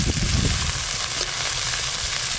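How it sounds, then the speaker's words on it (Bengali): Chopped onion hits oil seasoned with black cumin and a dried chili, giving a loud, dense sizzle that stays fairly even throughout, with low bubbling underneath. "ফোড়ন হয়ে গেছে, পেঁয়াজ কুচি দেব।"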